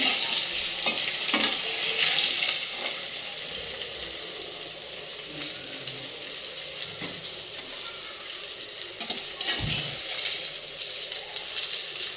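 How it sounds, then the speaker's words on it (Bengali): A steady, close sizzle of fish frying in hot oil crackles throughout, with occasional light knocks and scrapes. "আমার মাছগুলো ভাজা হয়ে গেছে"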